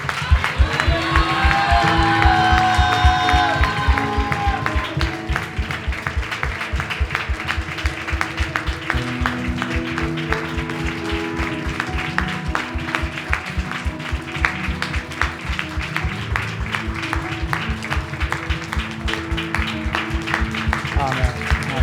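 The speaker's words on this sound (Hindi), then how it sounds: "तालियों के साथ परमेश्वर को महिमा देंगे" Church congregation clapping together in steady rhythmic applause that continues throughout, loud and full, with sustained tones and voices over the clapping near the start.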